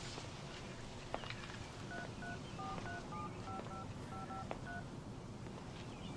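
A telephone keypad being dialed to call the police, a rapid series of about a dozen touch-tone beeps sounding fairly faint over steady background noise.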